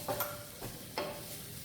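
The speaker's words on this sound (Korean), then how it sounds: "양파가 약간 유연하게 변할 때까지 볶아주시면 되겠고요." Onion and green onion are stir-fried in a pan with a quiet sizzle and a few soft, quick scrapes from a utensil, close by and without speech.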